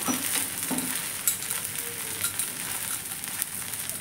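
A beetroot kola dosa with a star-shaped design sizzles steadily on a hot pan, with close frying crackle and a few light scrapes and taps of a spatula.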